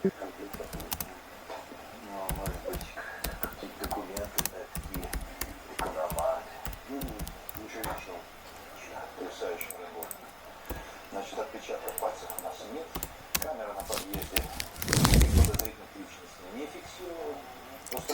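Quick, irregular clicking of typing on a laptop keyboard runs steadily throughout, close and fairly quiet, with a voice speaking now and then over it.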